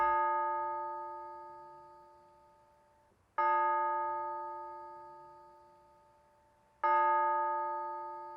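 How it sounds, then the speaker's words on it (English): Memorial bells ring in Framingham, three clear, resonant strikes spaced about three and a half seconds apart, each one ringing out and slowly fading before the next. "For the rest of history, those bells will ring in her memory."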